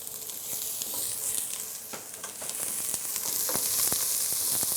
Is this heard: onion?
yes